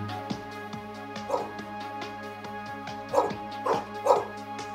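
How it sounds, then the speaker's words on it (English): A search-and-rescue dog barks in a series of sharp, fairly close barks and yips, with a steady mechanical hum running underneath throughout. "The dog has detected the scent of the victim."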